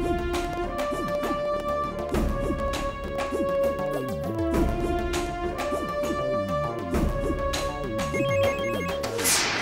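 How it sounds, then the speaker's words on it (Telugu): A phone ringtone plays continuously as a steady, loud melodic ring with a repeating pattern, close by, with only faint background voices. "ఫోన్ ఎవరిదిరా?"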